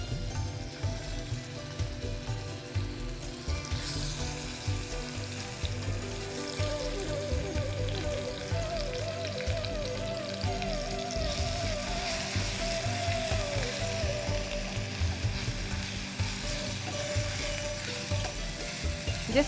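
Grated raw mango sizzles and fries in hot ghee in a pan, a steady close crackling hiss with occasional stirring scrapes throughout.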